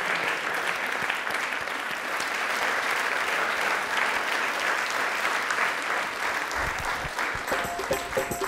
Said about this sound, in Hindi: जोरदार तालियां प्लीज एक बार।